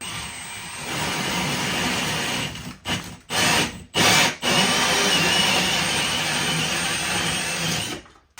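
A hole saw cuts through a house ceiling to mount a fire alarm detector, its loud steady whine running for several seconds, broken by a few short stops and restarts partway through before it keeps grinding on.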